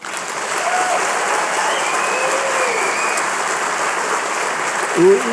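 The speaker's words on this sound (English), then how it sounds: "Can we give a giant round of applause for them?" A church congregation gives a sustained round of applause, a thick, even wash of clapping heard loud and steady from start to finish.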